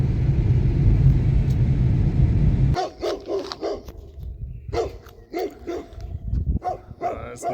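Dogs bark repeatedly in short, loud bursts from fairly close by in a rural area of Romania, after a loud engine rumble cuts off abruptly.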